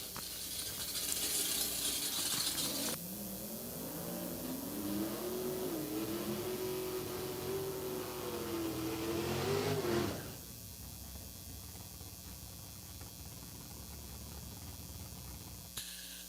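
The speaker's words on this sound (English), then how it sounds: "back underway here with a couple of 7-second capable hot rods" A pair of seven-second-capable drag racing hot rods launch down the strip, their loud engine roar climbing in pitch for about seven seconds before dropping away to distant ambient noise.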